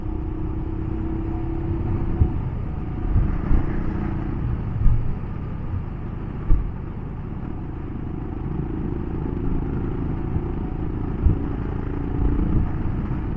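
Royal Enfield Himalayan motorcycle riding along mountain roads in the Sierra de los Filabres: a steady engine rumble with wind, broken by occasional thumps and clatters from the road.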